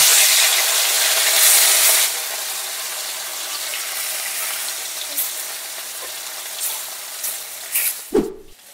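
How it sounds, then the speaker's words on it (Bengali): Fish fried in hot oil in a kadai: a loud, hissing sizzle that is strongest at first, then settles into steady crackling with scattered pops and a brief clatter near the end. "এবার মাছগুলোকে ছেড়ে খুব ভালো করে উল্টে পাল্টে ভেজে নেব।"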